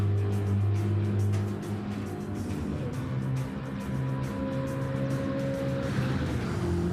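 A race car in Gran Turismo 7 roars steadily at Spa, its engine droning loud and close through gear changes over nearly seven seconds, with no talk over it.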